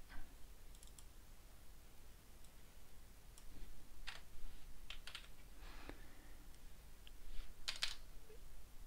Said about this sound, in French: je vais taper pendant 5 minutes